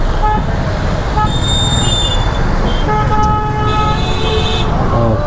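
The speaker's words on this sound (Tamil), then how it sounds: "ஐயோ டிராஃபிக்காக இருக்கு." Busy Indian city road traffic around a food delivery rider, with several car horns tooting repeatedly over a loud constant engine and road rumble; a voice speaks briefly under the din.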